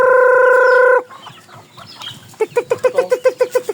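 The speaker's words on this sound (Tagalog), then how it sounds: "yung manok ni paring Mac" A long, loud rooster crow opens, then a hen clucks in a quick rhythmic series of short, close calls.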